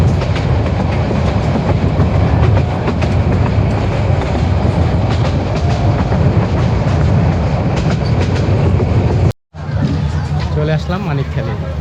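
A train rolls on rails between Dhaka and Kishorganj, heard from on board near small rural stations. Its steady rumble and rhythmic clickety-clack stay loud and close, with a brief dropout near the end.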